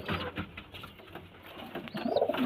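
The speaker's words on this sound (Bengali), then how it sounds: "দেখুন পায়রাগুলো দেখুন" Pet pigeons at a Bamungachhi loft make soft, intermittent cooing among rustling and handling noises close by, with a brief louder burst near the end.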